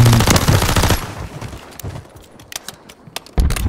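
Automatic gunfire in a Call of Duty Rebirth Island match, a loud rapid burst up front, scattered single shots in the middle, then another heavy burst at the end.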